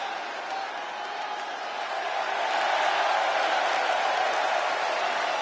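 Arena crowd in a WWE wrestling video game, a steady wash of cheering and murmur that swells slightly midway, with no clear speech on top.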